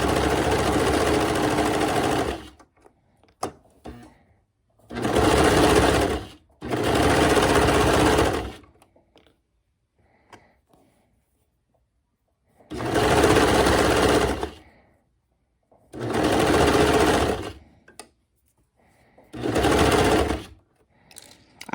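A sewing machine stitches sleeve bands onto a dropped-waist dress at a 3/8-inch seam allowance, running in about six loud, close bursts of steady rapid whirring, each a few seconds long, with quiet pauses and small handling noises between.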